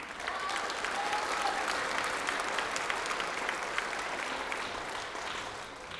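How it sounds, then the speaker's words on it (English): Sustained audience applause at a middle school band concert, a dense, steady wash of many hands clapping that holds evenly loud for the full stretch before easing slightly at the end, with no talk over it. "So let's give them another round of applause."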